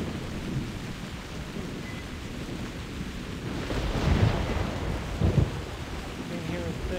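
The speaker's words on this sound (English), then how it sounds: "It's rain." Steady heavy rain with low rolling thunder in the video game theHunter: Primal, a dense continuous wash that swells louder partway through, with deeper thunder rumbles near the end.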